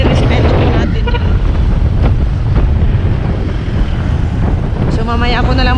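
Strong wind blasts straight into the microphone with a loud, continuous rumbling buffet, while faint voices come through underneath.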